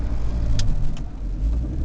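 Road traffic on the BR-470 highway near Blumenau, Brazil, a steady low rumble of passing cars with a couple of brief higher swishes, close and continuous, with no talk.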